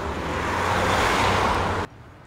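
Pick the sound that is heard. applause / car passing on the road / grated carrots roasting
car passing on the road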